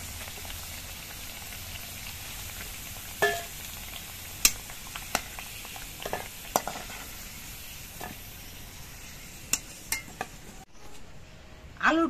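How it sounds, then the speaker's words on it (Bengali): Mixed vegetables, washed and rubbed with salt and turmeric, fry in white oil in a kadai: a faint, steady sizzle broken by scattered sharp clinks of stirring. "সবজিগুলোকে ভেজে নিচ্ছি।"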